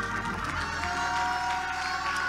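A church congregation claps hands during a sermon, a dense wash of applause and crowd noise, with music playing underneath.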